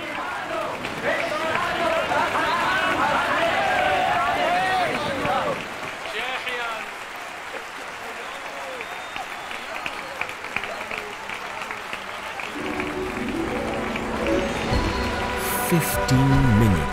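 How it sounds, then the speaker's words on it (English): A large crowd claps and cheers in a sustained ovation, steady dense applause that fades and shifts midway, with a voice talking over it. "Minutes of clapping, cheering, standing ovations, and loud Shehecheyanu blessings."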